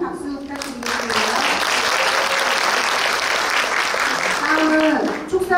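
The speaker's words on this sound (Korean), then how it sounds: "큰 박수 부탁드리겠습니다." Audience applause at a conference of a private daycare centre association in Suncheon, a dense sustained clapping that swells after a spoken introduction and fades as a voice returns at the end.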